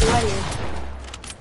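Gunfire in the Fortnite video game, a short burst of shots at the start that quickly fades into quieter crackling, with a voice briefly present underneath.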